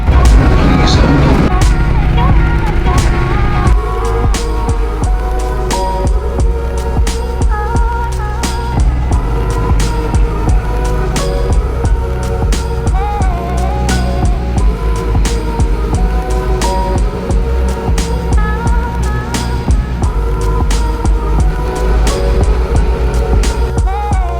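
An airport apron bus drives around Zurich Airport, its engine droning steadily with rattles and clatter throughout, while people talk inside the cabin.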